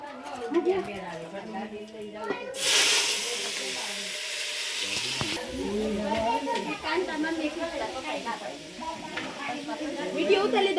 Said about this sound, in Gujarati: તો ચાપડી બની ગઈ છે હવે, અને અત્યારે તેલમાં તળાય છે